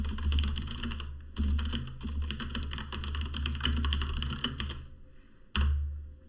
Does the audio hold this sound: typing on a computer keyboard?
yes